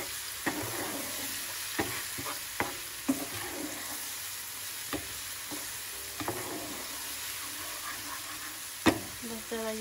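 Spices and ginger paste fry in hot oil for a lemon and green chilli pickle. A steady sizzle runs throughout, with scattered knocks of a spoon against the pan and a brief voice in the background.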